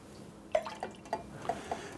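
Simple syrup poured into a cocktail tin for a Bramble, a few soft drips and light splashes, close and quiet, with no talking.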